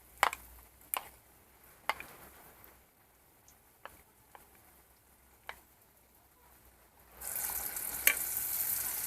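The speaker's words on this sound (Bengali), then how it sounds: "এটাকে আমি এখন গরম তেলে দিয়ে দেব" A banana flower chop drops into hot oil and starts a loud, steady sizzle in the final seconds, after a quiet stretch of scattered light clicks and taps from kitchen utensils.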